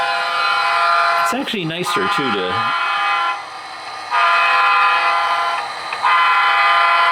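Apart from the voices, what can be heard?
train horn honking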